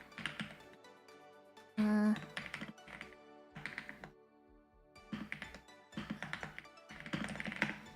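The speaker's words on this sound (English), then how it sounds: "you heard the typing" Someone types on a computer keyboard in quick bursts of crisp clicks and taps, pausing now and then, while a voice talks over parts of it.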